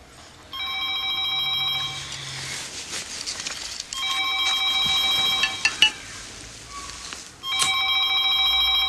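A telephone rings in repeated bursts of bright electronic tones, loud and close, with short pauses between the rings and no talking over it.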